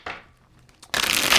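Tarot cards being shuffled during a card reading, a soft flutter early on, then a louder, dense riffle of cards near the end, close to the mic, with no talking.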